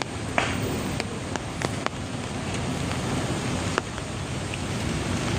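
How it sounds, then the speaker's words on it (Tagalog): Heavy rain pours steadily over a barge work site, a dense continuous hiss with a few sharp knocks and clicks scattered through it. "Ayan, umulan na naman po guys. Malakas ang ulan, oh."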